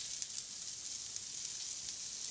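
Steady, quiet sizzling of rice frying in a pan with dill and green onions, a continuous soft crackle with no talking.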